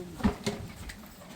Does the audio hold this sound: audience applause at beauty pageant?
no